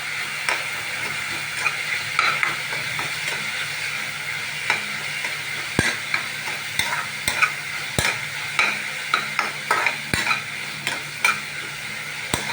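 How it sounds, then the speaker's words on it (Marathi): Onions frying in a pan for a fish Malabar curry, a continuous sizzle broken by regular scraping clicks of a spoon stirring them as they brown. "कांद्याला चांगला ब्राऊन करायचा आहे."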